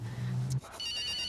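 A telephone rings in a home, a short electronic warble that cuts off and gives way to a steady high tone on the line, close and clear.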